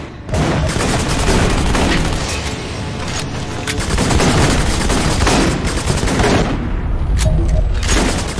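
An alternate weapon fires in Section 8: Prejudice, producing a loud, sustained barrage of booming shots and gunfire that stays dense and near for several seconds with no pause.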